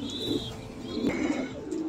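Fancy pigeons coo inside a loft, several low, throaty rolling coos overlapping at close range with faint chirps and rustle around them.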